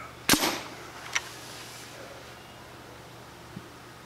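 A custom Nerf Titan rocket launches from an air-pressure launcher held at the shoulder: one sharp, loud pop with a short hissing release, followed by a fainter click and a small distant thud in a quiet outdoor setting.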